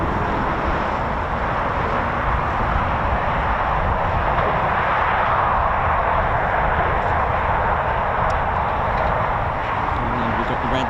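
A Eurofighter Typhoon jet departing RAF Waddington fills the air with a loud, continuous broadband roar that holds steady throughout without a break.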